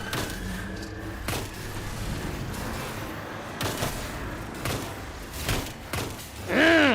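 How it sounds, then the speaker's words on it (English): Sniper fire in the video game Destiny 2 comes as a series of sharp gunshots and thumps spread through the clip, ending in a rising electronic tone. "There's a sniper up on that ridge there."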